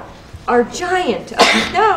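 A single sharp sneeze bursts out mid-sentence in a read-aloud children's snowman story, with a storyteller's voice speaking before and after it.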